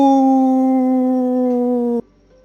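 A human voice imitates a wolf howl with a steady, hollow 'woo' held for about two seconds, then it cuts off abruptly.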